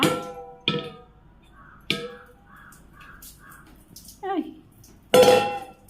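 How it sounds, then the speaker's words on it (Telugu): A metal pot is washed in a kitchen sink, giving a few sharp, irregular clanks and clatters, close and fairly loud, with people speaking in between. "గిన్నె కడిగేసావా?"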